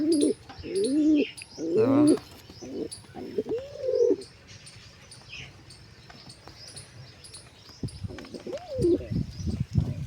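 Newly acquired pigeons coo in repeated soft rolling calls at close range, with small birds chirping and faint crickets behind them.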